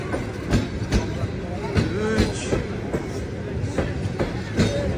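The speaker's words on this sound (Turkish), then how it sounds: "Birinchi vagon gitti. İkinci vagon." Train wagons roll past with a steady rumble and rhythmic clickety-clack of wheels over rail joints, loud and close, with faint squeals and some voices in the background.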